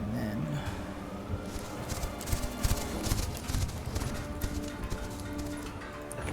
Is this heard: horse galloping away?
yes